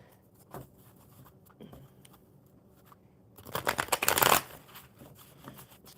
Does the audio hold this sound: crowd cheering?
no